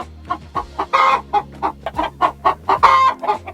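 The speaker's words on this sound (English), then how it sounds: "That's a chicken laying an egg. That's the sound they make." A hen clucks loudly and repeatedly just after laying an egg, a close, rhythmic run of sharp squawking calls with a couple of louder drawn-out cries, no voices.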